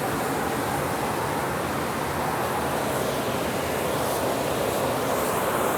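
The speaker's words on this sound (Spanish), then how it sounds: "Miren cómo burbujea el agua." Hot water bubbling and hissing at the Pinchollo geysers near Arequipa, a dense, continuous roiling noise, loud and close, with no break and no voices.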